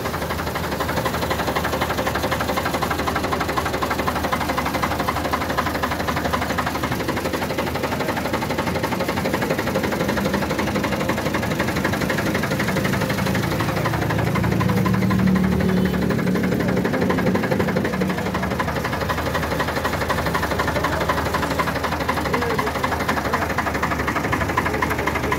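A 1980 Ford 4600 tractor engine idles steadily at close range, a loud continuous diesel rumble with a light knocking rhythm and a slight swell in level midway.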